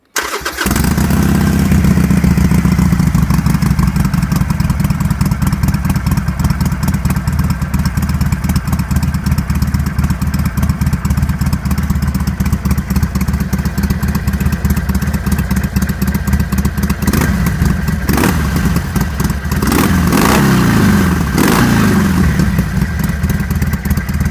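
Harley-Davidson Iron 883 motorcycles, one stock and one with Vance pipes, rumble loudly and steadily close by for the whole stretch, with a harsher, rougher exhaust note swelling near the end.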